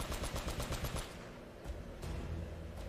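Sustained automatic gunfire from a gun with unlimited bullets in Uncharted at the monastery, rapid rhythmic bursts at close range, briefly slackening before the shooting resumes steadily.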